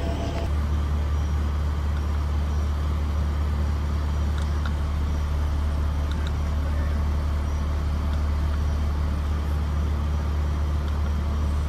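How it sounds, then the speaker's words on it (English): Vehicle fitted with roof rack lights driving down a road, giving a loud, steady rumble of engine and road noise that holds without a break throughout, with no talking. "I gotta go drive it down the road and see what it's like."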